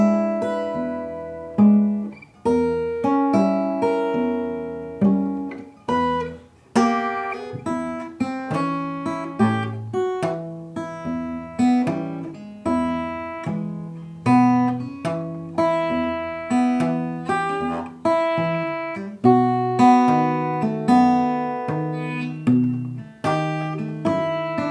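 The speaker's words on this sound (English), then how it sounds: "you've got the thumb alternating, you've got these chord voicings on top, and the fingers kind of rolling through the chords to make the melody" Fingerpicked acoustic guitar plays Deep River Blues in E at a slowed tempo, an alternating thumb bass under rolling chord voicings that carry the melody, close and clear with no talking.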